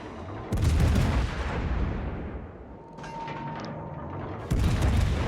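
Des Moines cruiser in World of Warships firing two of its guns, heard as two heavy booming blasts about four seconds apart with a rumbling tail between them and no talk.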